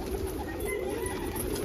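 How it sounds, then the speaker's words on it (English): Birds coo outdoors on a chilly morning while being fed bread, soft dove-like calls heard through steady, noisy background hiss. "Birds are active"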